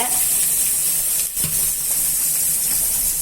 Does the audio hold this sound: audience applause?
no